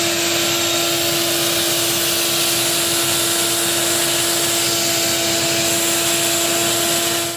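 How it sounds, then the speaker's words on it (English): A vacuum cleaner drones loud and steady at close range while sucking leaves out of the air filter box of a 1996 Toyota 4Runner, with a constant high whine throughout and no talk. "So carefully go over it with vacuum and we will install it back."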